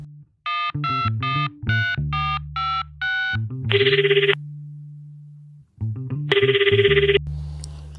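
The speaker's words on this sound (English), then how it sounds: "picks up the telephone and begins calling family members" A telephone dials a series of beeping tones, then a loud ringing tone sounds twice with a long gap between, close and clear.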